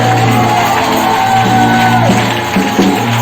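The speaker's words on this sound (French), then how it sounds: "Je veux que tu acclames le Seigneur." A church congregation shouting and acclaiming the Lord together, a loud sustained roar of voices with a steady hum underneath.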